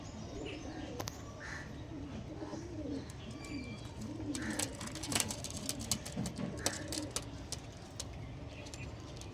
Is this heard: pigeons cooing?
yes